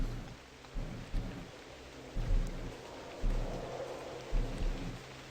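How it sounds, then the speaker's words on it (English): Video game weather: soft, steady rain falls while low thunder rumbles repeatedly in the distance, with several faint rolling booms spaced a second or so apart. "And we come back into rain."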